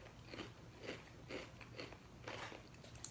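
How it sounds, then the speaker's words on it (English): Flamin' Hot Doritos chips crunched up close, about six separate crisp bites and chews coming in an uneven rhythm, fairly quiet with no talking. "And me and Lauren are sharing some spicy Doritos"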